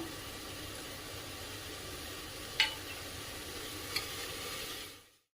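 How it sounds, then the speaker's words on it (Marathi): Tomato, onion and grated fresh coconut sautéing in a pan, a steady soft sizzle throughout with two brief scraping clinks from stirring, fading out at the end. "टोमॅटो आणि कांदा व्यवस्थित परतून घेऊया।"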